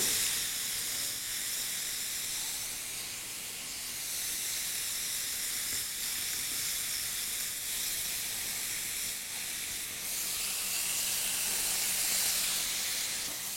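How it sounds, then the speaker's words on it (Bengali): A fish fillet for ginger fish shallow-fries in a pan of oil with a continuous close hiss and sizzle that swells briefly toward the end. "শ্যালো ফ্রাই করতে হবে।"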